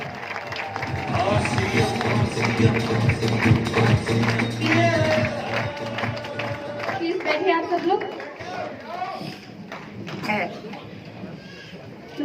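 Dense crowd applause at an RCM motivational stage event in India, with many hands clapping continuously at close range, steady and loud, mixed with crowd chatter and voices under the noise across the whole stretch.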